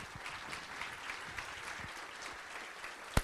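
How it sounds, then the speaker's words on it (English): An audience at a Richland civic event applauds past chairs for several seconds, a steady wash of clapping at moderate distance with one sharp loud clap near the end. "So please give these visionary leaders a round of applause, and please stay standing."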